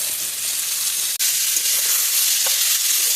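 A pan of taro-leaf dish frying with a steady, loud sizzle and hiss, broken by a brief stir around the middle and a soft scrape of stirring later on, with no one speaking.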